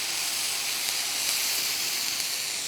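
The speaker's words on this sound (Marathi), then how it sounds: "आता ह्याच्यात थोडंसं तेल घालते आणि पाणी शिंपडायचं, म्हणजे आपला तवा जो आहे तो छान नॉनस्टिक होईल" Water sprinkled onto a hot, oiled tawa gives a loud, steady hiss of steam that carries on without a break, close up, before a tomato omelette is cooked.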